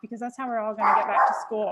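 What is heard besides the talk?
dog barking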